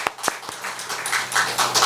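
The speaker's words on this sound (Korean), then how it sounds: "그 풍성을 허락하신 우리 하나님께 영광의 박수 올립니다" A church congregation breaks into clapping to give glory to God, a few sharp isolated claps at first that swell into steady, dense applause filling the room.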